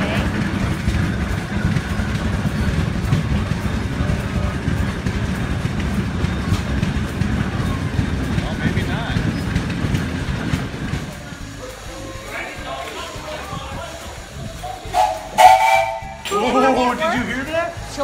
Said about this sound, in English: Bye, steam train.